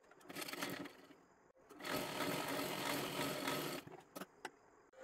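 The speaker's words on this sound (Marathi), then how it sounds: "इथे आपल्याला पूर्ण शिलाई करून घ्यायची आहे" A sewing machine stitches a long seam through fabric for a girl's one-piece dress, running in a short burst, pausing briefly, then whirring steadily for about two seconds before a few quick stops and starts.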